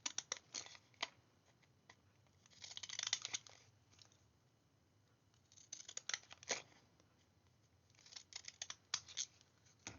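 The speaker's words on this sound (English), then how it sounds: "I'm placing my scissors all the way down the edge." Scissors cutting through card to make place cards, quiet close snips in short bursts separated by pauses, with faint crinkling as the card is handled.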